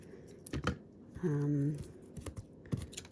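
Scissors snip through paper for a handmade card, a few crisp close cuts separated by pauses, with a brief hum and some soft handling noises around them.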